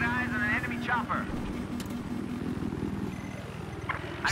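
Scout helicopter in the game Battlefield 4, on the Lost Island map, gives a steady rotor drone throughout, heard beneath continuous talking from players.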